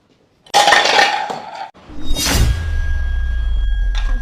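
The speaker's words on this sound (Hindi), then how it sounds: "बर्तन ही गिर गए।" Kitchen utensils tumble and clatter to the floor, including a glass rolling board and pin: a sudden loud clanging crash, a brief pause, then a second clatter settling into a low rolling rumble that carries on steadily.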